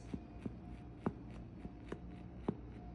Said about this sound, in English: I'm gonna come back in with that butter knife and then just cut